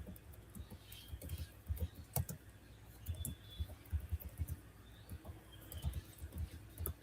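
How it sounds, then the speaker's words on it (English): Soft, irregular clicking of keys on a computer keyboard in quick bursts and pauses, faint and close, over a low room rumble. "Sorry for the typing."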